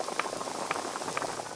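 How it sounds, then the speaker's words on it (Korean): Animated doenjang stew bubbling in a pot, a soft steady simmer with small pops at a regular rhythm, alone and at moderate loudness. "보글보글 된장찌개"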